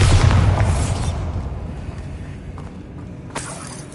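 A Bombarda spell explosion in the video game Hogwarts Legacy: one loud, close boom at the start that rolls off into a fading, rumbling tail over a few seconds.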